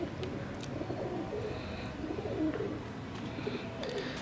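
Breeder-type Salare pigeons coo softly in repeated low, throaty phrases, fairly faint and close, against a quiet background hum.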